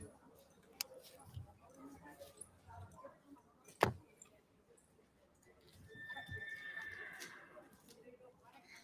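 A mare at a horse sale lopes with soft, faint hoof thuds, then gives a clear whinny lasting over a second, with quiet background noise and occasional voices.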